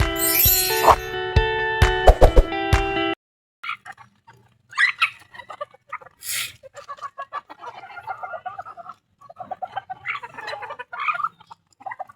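Chickens and chicks at a backyard coop in the morning, clucking and chirping in short irregular bursts, close and fairly loud with no talking, after a brief louder tonal passage at the start.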